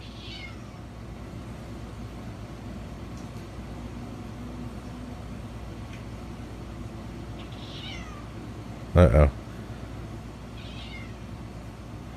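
A house cat meows a few times, faint and distant, against steady low background noise late at night, with a brief loud knock or bump near the end and a short spoken exclamation.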